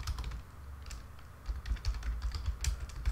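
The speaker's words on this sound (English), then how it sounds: "here's where I type a form description" Irregular clicking keystrokes on a computer keyboard while entering a form description, close and moderately loud, in quick uneven bursts with no speech.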